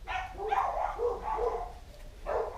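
A dog barks a few times at moderate distance in a workshop during a carburetor rebuild on a 1942 Ford GPW, the barks coming in a loose series with no speech over them.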